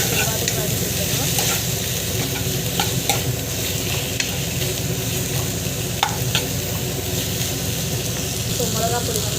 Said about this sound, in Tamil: ஸோ வெண்டைக்காய் ஆட் பண்ணிவிட்டு நல்லா வந்து வதக்கி வச்சுருக்கோம்.